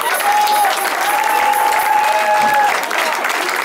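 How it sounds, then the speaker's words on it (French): Concert audience at a jazz festival applauds in a sustained, even wash of clapping, with a few whistles and cheers rising above it. "vous pouvez vous applaudir"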